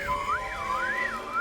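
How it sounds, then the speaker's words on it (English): A cartoon whistle glides up and down in a smooth, wavering melody, clear and moderately loud over a faint background. "What a pretty whistle."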